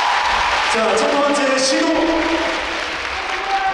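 Audience applause fills a volleyball arena during a women's spike serve contest, a steady broad wash of clapping and crowd noise with a commentator talking over it.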